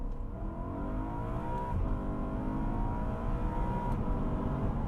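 A BMW in sport mode accelerates hard with paddle shifts, its engine note climbing in rising harmonic sweeps, broken by quick, abrupt gear changes, heard close from inside the cabin.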